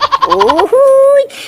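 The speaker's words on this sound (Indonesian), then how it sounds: "ini ada ayam berkokok," A toy rooster crows a short electronic cock-a-doodle-doo, with quick stuttering notes leading into a long held tone, loud and near.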